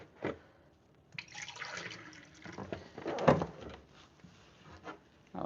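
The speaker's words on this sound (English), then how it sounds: "And then we're also going to add a cup of water." Cup of water being poured for a southern berry dumpling recipe, short splashing and trickling bursts of liquid heard close up in a quiet kitchen, with a brief louder gush midway.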